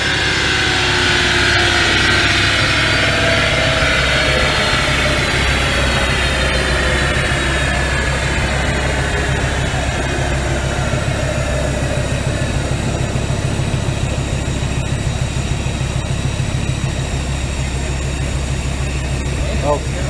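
A 2017 Dodge Viper with a stock engine, running E85 and fitted with an F1-X Procharger, revs hard on a dyno. A loud, sustained roar carries sweeping whine tones throughout the pull.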